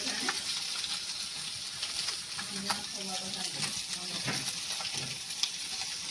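Chandi (pomfret) fish frying in a pan, a steady close sizzle with intermittent stirring and scraping clatter, with faint background voices.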